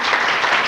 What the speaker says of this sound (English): So y'all give the brother a round of applause